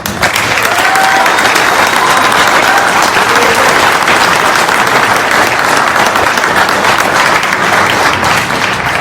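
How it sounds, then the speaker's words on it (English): Big, loud applause from an evening audience greeting a guest speaker brought to the microphone, a dense unbroken roar of many hands clapping that holds steady at full strength throughout. "have you give him a nice round of applause"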